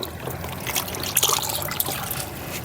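Liquid plant fertiliser being poured into water to dilute it, a short trickling splash that swells in the middle and then thins, with no speech.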